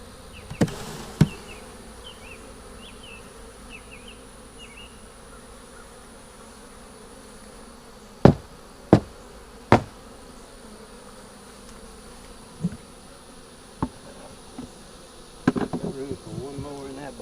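Honey bees buzzing in a steady low drone while a long hive is inspected frame by frame, with several sharp knocks and clicks of frames and tools cutting through, and a brief bit of handling noise near the end.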